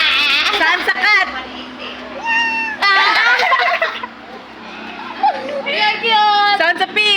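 A voice imitates a cat's meow with several high, wavering, squeaky cries, and other voices chatter around it.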